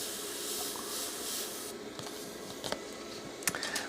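An airbrush hisses steadily as it sprays paint close by, a continuous soft airy stream that drops away partway through, followed by a few small clicks and taps.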